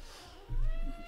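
A house cat gives a single short meow close by in a quiet indoor room.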